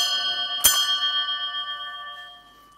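Small altar bells used at the start of Mass are rung once in a bright, sharp strike, their metallic ring lingering clearly and fading slowly over a couple of seconds, with no talking.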